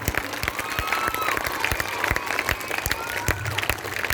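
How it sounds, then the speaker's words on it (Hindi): Applause from an audience at a speech, a steady wash of many hands clapping, fairly loud and continuous with a few sharper claps standing out. "ये सर के लिए ताली बहुत ही कम है"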